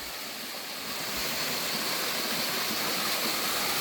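A small waterfall in Greek countryside roars in a steady, dense rush of falling water, close and continuous, with no voices.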